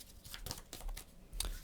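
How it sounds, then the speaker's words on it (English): Cards from a board game deck being shuffled by hand, quiet papery riffles and crisp flicks in a few short bursts, close and faint. "Let's shuffle this up."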